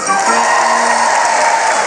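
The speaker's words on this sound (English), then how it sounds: "How about a cheer for Paige and Neptune?" An audience at a 1996 Marineland sea lion and dolphin show cheers for Paige and Neptune, a brief, steady wash of crowd cheering and clapping, fairly loud and unbroken.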